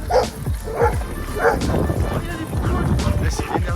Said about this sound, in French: Oh, il y a un petit chien.